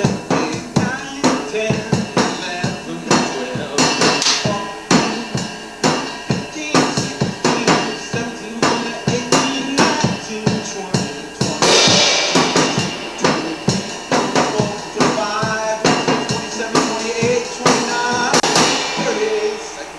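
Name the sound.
drums being recorded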